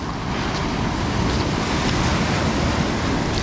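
Sea waves washing over smooth pebbles on a beach at Lazarevskoye near Sochi, a loud, continuous roar of surf and shifting stones up close, with no voices.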